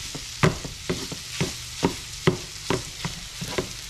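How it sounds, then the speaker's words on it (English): Sausage browning in a pan, with a steady soft sizzle under regular scraping strokes from a utensil stirring and breaking up the meat, close by with no talk. "I'm going to brown up this sausage"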